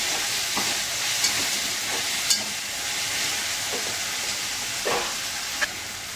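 Horse gram (kulith) stir-fried in a pan, with a constant close sizzle broken by occasional spoon scrapes and clicks against the pan.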